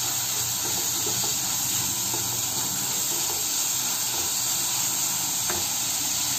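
Wheat flour noodles fry in a pan with a steady, dense hiss and sizzle, close and continuous throughout, with faint light clinks here and there and no talking.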